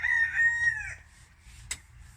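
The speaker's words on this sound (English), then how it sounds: "My rooster is very naughty." A backyard rooster crows once, loud and close, in a long drawn-out call that fades after about a second, followed by quieter outdoor background noise and a brief sharp knock.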